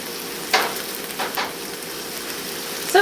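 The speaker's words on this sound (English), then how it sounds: "going to sear just both sides of the pork chops" Pork chops sear in a hot pan with a steady, fairly quiet sizzle and crackle, a few brief louder spits breaking through, no talk.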